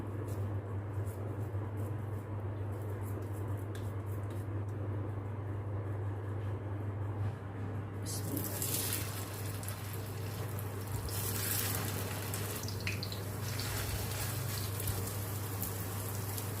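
A chicken burger patty sizzles in oil in a pan, a steady crackling hiss under a constant low hum that grows brighter and louder partway through.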